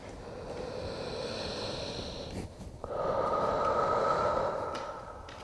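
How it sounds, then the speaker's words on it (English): Slow, deep breathing during a yoga pose, one long airy inhale followed after a brief pause by a fuller exhale, soft and close to the microphone. "Take one more cycle of breath here,"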